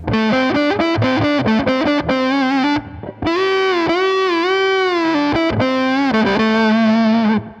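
An original 1958 Gibson Les Paul played through its neck pickup with the tone knob turned fully down, a warm, thick, sustained electric guitar line of held notes and bends, loud and close with only brief pauses.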